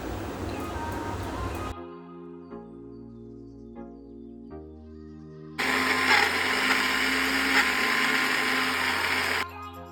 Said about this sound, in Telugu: ఘాటుకు సరిపడంత అల్లం పచ్చిమిర్చి గ్రైండ్ చేసి వేసుకోవాలి